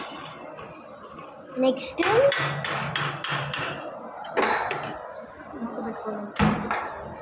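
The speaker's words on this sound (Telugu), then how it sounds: "చూడండి, మిక్స్ చేస్తాము." Noodles are tossed and mixed in a pan with a utensil, producing a cluster of sharp metallic clanks and knocks, close and fairly loud, interspersed with a voice talking over the mixing.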